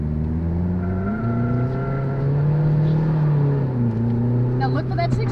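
A car drives along during a driving lesson, its engine droning and shifting pitch as it speeds up and eases off, with an instructor talking over the steady hum.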